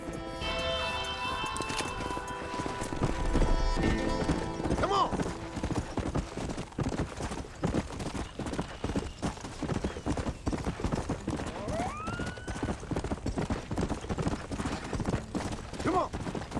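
A horse ridden in a western video game clip-clops steadily at a moderate pace, with occasional snorts and whinnies over a continuous music bed.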